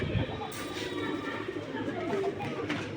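Silver Giribaz pigeons cooing in a loft, soft low rolling coos repeating steadily alongside other birds and a faint voice in the background.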